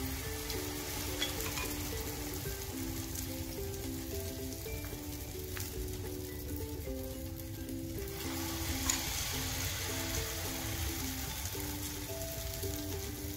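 Pinwheel samosas frying in oil over a medium flame give off a faint, continuous bubbling sizzle, with a soft melody playing underneath.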